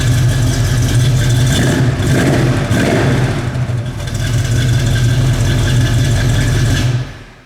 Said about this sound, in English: Nice sounding dual exhaust.